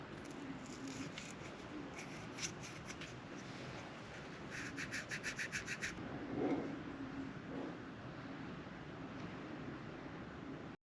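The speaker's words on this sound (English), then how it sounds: "put a little dab on the end of that, and just gently work it back and forth in there until it shines it up" An engine valve is lapped by hand with grinding compound, worked back and forth against its seat, giving a run of quick, even scraping strokes over a steady hiss of background noise.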